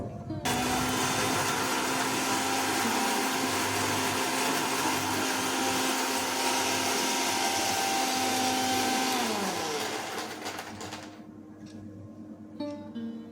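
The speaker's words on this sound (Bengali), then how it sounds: "তো ওই জন্যই আমি আগে মশলাটা একটু ঘুরিয়ে নেবো" An electric grinder whirs loudly and steadily as it grinds whole spices and chillies for a cabbage and soybean cutlet, its pitch dropping as the motor winds down before a few faint knocks.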